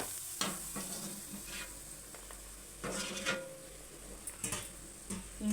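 Onion bajji fritters frying in hot oil, a continuous soft sizzle broken by a few brighter crackling bursts as batter is stirred, close and fairly quiet.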